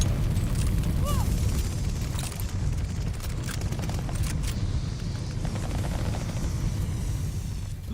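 A grenade explodes in the shooter game Call of Duty Vanguard, a loud, rumbling blast that lingers as a heavy low roar, with a few sharp clicks and pops scattered over it.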